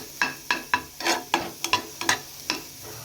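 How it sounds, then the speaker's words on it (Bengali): Potatoes, onions and green chillies being stirred and fried in a pan, with about ten distinct scraping stir strokes in a steady rhythm over a soft sizzle, close and moderately loud with no talking. "এখন আলু পেঁয়াজ আর কাঁচা লঙ্কা একসাথে ভেজে নিচ্ছি"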